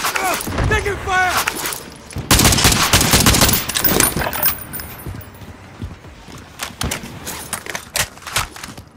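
Gunfire in Call of Duty Modern Warfare: loud close bursts of rapid shots and rattling fire mixed with radio-style voice callouts, heaviest early on, then thinning to scattered sharper shots and quieter stretches.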